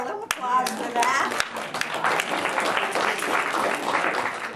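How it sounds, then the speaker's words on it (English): Audience applause at a Q&A after a film screening, a loud, steady patter of many hands clapping for several seconds, with a few sharper claps near the start and voices faintly mixed in. "Well, we can take a little applause for that."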